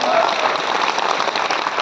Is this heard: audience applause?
yes